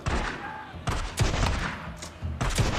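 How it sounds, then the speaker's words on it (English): Repeated loud gunshots from a shotgun in a post-apocalyptic video game, sharp bursts every half second or so over a noisy combat soundscape, with no talking. "now you're just going to go in with a shotgun and blow him away"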